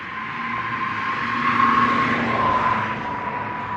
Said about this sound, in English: I've got another car coming.